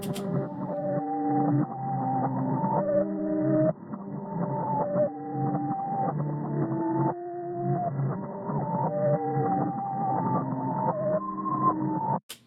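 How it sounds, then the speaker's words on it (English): A reversed piano melody loops in a dark R&B beat, its notes swelling backwards into abrupt cutoffs, repeating in a steady cycle with a low bass underneath. "I went ahead and took that same piano melody, the original one, and I went ahead and reversed it"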